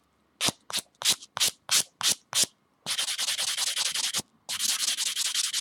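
A buffing block smooths acrylic nails in a series of quick, close scratchy strokes, seven short separate rubs followed by two longer continuous bursts of sanding.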